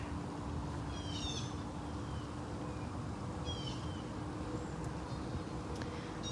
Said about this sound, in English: The birds are very loud this morning.